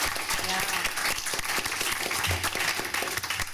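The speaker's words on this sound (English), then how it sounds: "If we could give Edwina a round of applause." Brief applause from a board meeting audience, a moderately loud wash of many hands clapping steadily throughout, with no speech over it.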